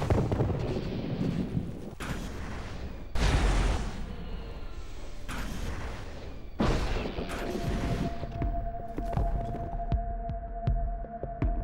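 A C8 satchel charge explodes in the mech combat game MechWarrior: Living Legends, heavy booming blasts and rumbling over a dense, continuous battle din.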